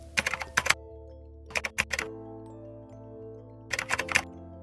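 Quick bursts of typing on a computer keyboard while naming a new folder, three short clusters of crisp key clicks separated by pauses, close up over a low steady hum.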